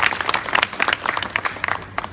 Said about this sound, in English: Please give him a big hand of applause.